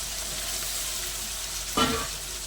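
Masala being sautéed with fried potatoes and red lentil fritters, a steady close sizzle with a brief louder burst of stirring and scraping near the end, no voices.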